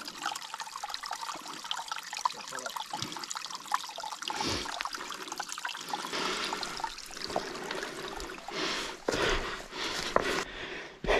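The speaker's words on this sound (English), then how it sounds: "every little region, there's more water flowing down" Water flows down a stream along a forest trail in Tennessee, a steady trickling and babbling wash that stays fairly close and continuous with small surges, with no talk over it.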